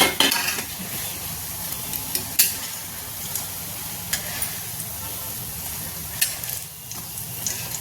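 Singhada flour pakoras fry in hot oil in a kadhai, giving a steady soft sizzle. Occasional spoon stirs and metal clinks sound close by.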